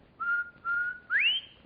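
Someone whistles alone: two level held notes followed by a third that slides upward, clear and close.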